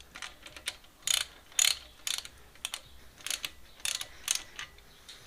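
Ratchet wrench snugging up bolts on a Jeep 4.2-liter 258 CID inline-six engine block, heard as close, quick bursts of metallic clicking repeated in short strokes with brief pauses, no talk.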